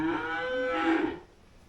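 A cow gives one drawn-out moo, a clear, close low bellow that wavers in pitch for over a second before trailing off into quiet.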